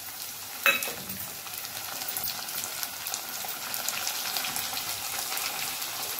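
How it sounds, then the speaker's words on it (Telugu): Onions sizzle steadily in a pan while cooking for sabudana khichdi, with a sharp clink near the start and then an even, close frying hiss. "కొంచెం ఆనియన్స్ కలర్ చేంజ్ అయ్యే వరకు ఇలా వేగనివ్వండి."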